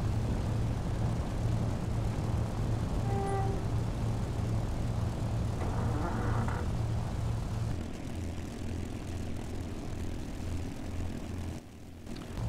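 Avro Anson twin propeller aircraft in the A2A flight simulator, a steady droning engine hum with a pulsing low rhythm, continuous and close, easing slightly in pitch toward the end.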